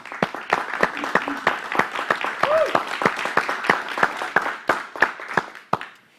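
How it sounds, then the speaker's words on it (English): Sustained audience applause at an evening charity event, a dense steady patter of many hands clapping close by that carries on for several seconds and then fades out at the end. "One big round of applause for Agape Village's staff and Amos Productions."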